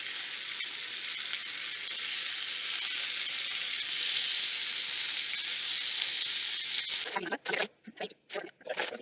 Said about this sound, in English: And now we're just going to sear these tenderloins.